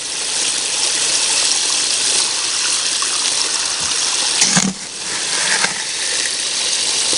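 Water gushes from a spray bar down an 8-foot sluice box running gold-bearing gravel, a loud steady rushing flow with a brief clatter of rocks near the middle before the stream settles again.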